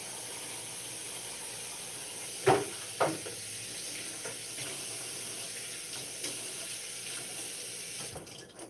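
Water runs steadily from a kitchen tap into a bowl for soaking potatoes, a continuous hiss punctuated by a couple of brief clunks and splashes near the start.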